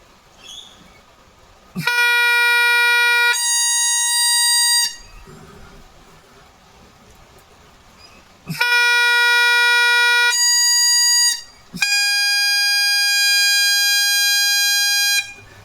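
Loud, reedy bagpipe chanter notes with a lower-pitched reed, held steadily, the F slightly sharp, shifting pitch a few times, in two long bursts separated by a quieter pause.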